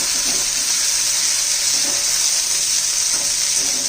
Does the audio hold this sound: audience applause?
no